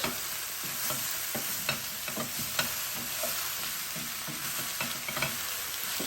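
A chicken and vegetable stir fry being stirred in a hot pan, with steady sizzling under repeated scrapes and clacks of the utensil against the pan, close and fairly loud, no talking.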